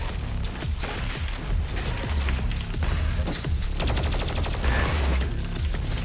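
Doom Eternal game audio carries dense, rapid gunfire with crashing impacts and booms, a busy, continuous barrage at moderate level with no voices.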